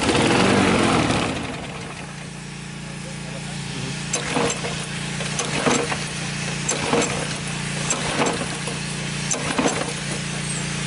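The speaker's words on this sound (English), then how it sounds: "we're going to start it up and run it dry, make sure all the gasoline in the engine burns out" A small vapor gas engine runs at a steady low idle, being run dry to burn off remaining gasoline. Its even hum continues under a person talking, with a few louder knocks and bumps.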